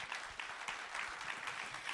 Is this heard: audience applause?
yes